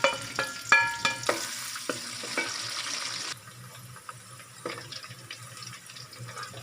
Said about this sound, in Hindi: घी गर्म हो गया, इसके अंदर प्याज ऐड करेंगे।